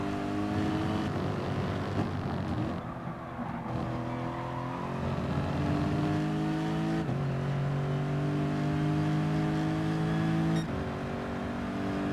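A race car in Gran Turismo Sport on SS tyres runs steadily through a turn at the Red Bull Ring, its engine droning loudly and continuously with smooth pitch shifts as it carries speed.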